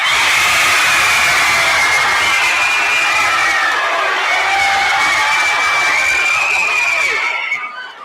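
A school audience at a high school culminating event cheers and screams loudly for the first winning group, a dense sustained roar of crowd noise with shrill children's shouts that fades out at the very end.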